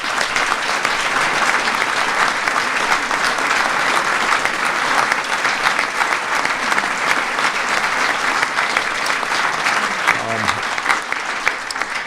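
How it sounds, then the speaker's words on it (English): An audience at a presidential bill signing ceremony for the 21st Century Cures Act claps loudly and steadily, a dense sustained roar of applause filling the whole stretch. "Please give them a big round of applause."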